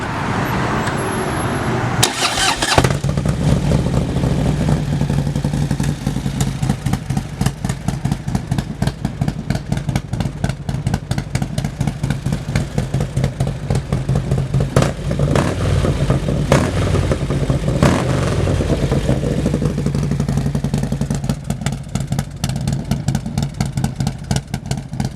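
A 2010 Harley-Davidson Street Glide fitted with a Stage 4 Screaming Eagle kit starts up, then idles and revs loudly and close with a dense, rough, pulsing rumble that holds for the whole stretch.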